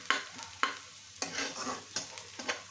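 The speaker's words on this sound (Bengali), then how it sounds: "পেঁয়াজটা আমার মোটামুটি ভাজা হয়ে গিয়েছে।" Onions frying in a pan sizzle softly, broken by several sharp scraping stirs of a spatula at irregular intervals, close and fairly quiet with no talking.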